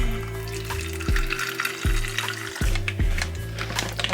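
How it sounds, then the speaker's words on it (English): Cooled green tea rinse poured into a spray bottle: close, trickling liquid splashing and gurgling in a few pulses over a steady low hum. "we're just going to pour it into our spray bottle"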